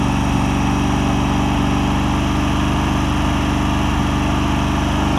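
A John Deere LX188 lawn tractor engine runs steadily after a fuel system overhaul, giving a loud, close, even mechanical drone with a constant low throb and no pauses.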